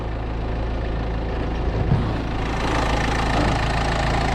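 A used imported car engine idles with a steady low rumble and faint rhythmic knocking, continuous and close, with no voices.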